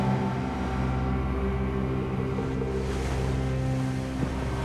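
A motorized canoe's engine drones steadily on a fast-flowing river in the Peruvian jungle, a continuous low hum with rushing water and wind noise throughout, close and loud with no pauses.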